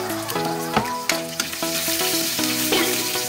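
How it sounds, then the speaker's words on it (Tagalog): Garlic and onion sauté in hot oil for pork adobo with a steady, close sizzle and a few louder crackles, under sustained tonal background music. "gisa na natin ang ating bawang and sibuyas, ang laging magka-partner at di nag-iiwanan"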